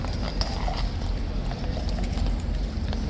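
Horse hooves clip-clop at Horse Guards in London, with a steady series of hoof strikes against a busy outdoor crowd murmur.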